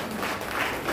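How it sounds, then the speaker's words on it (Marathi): An audience at a 133rd Ambedkar Jayanti celebration applauds: dense, continuous clapping from many hands fills the moment evenly, loud and close. "या रियांसाठी सर्वांनी जोरात टाळ्या वाजवायच्या आहेत पुन्हा एकदा"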